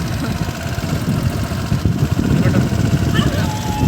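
A motorcycle engine rumbles steadily up close, a continuous low throbbing with no breaks over the few seconds.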